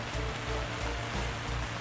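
Heavy rain pours down at an outdoor deck-building site, a dense, steady hiss of water striking surfaces, with low rumbling underneath and no talk, heard at a fairly low level.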